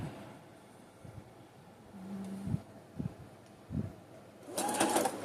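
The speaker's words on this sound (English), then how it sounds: "one of the things you want to do is you want to back stitch" A sewing machine back stitches a top in short bursts, its whir starting and stopping several times at close range, with a louder stretch of noise near the end.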